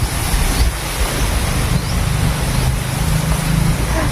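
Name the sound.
wind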